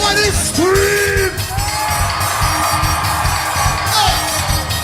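A live concert crowd yells and whoops over loud music and an MC on the microphone, with rising shouted calls and sustained cheering filling the space.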